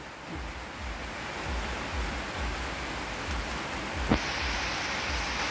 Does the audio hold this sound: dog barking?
no